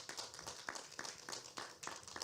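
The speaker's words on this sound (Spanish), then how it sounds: "Un aplauso, por favor," Scattered hand clapping from a small audience at a book presentation by a poet, faint and distant, individual claps audible in an uneven rhythm.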